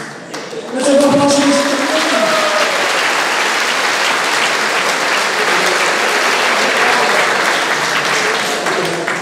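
A crowd at a mavo diploma ceremony breaks into loud, sustained applause that swells within the first second and continues steadily, with a voice trailing off under the clapping as it begins.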